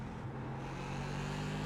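Race car engine in the iRacing video game, an SK Modified, droning loudly and steadily at high revs for a short stretch, with no talking.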